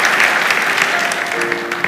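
A church congregation claps for Jesus Christ in a continuous, dense burst of loud applause inside a church built in 1449.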